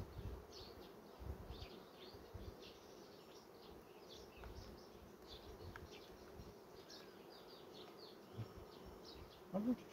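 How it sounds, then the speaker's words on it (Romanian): Bees buzzing steadily at a hive, a low continuous drone with faint birds chirping in the background. "având atâta albină"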